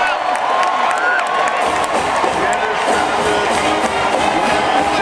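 A college football stadium crowd at an Oregon versus Portland State game roars with sustained cheering, whoops and some clapping, loud and continuous throughout.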